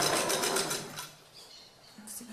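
A sewing machine stitches fabric for a divided bag, running in a fast steady whir for about a second before slowing and fading to quiet mechanical clicks, close and clear with no talk.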